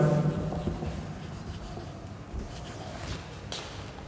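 Pen or marker scratching and rubbing on a surface while working out a chemistry formula, soft and close, in short irregular strokes after a brief murmur at the start.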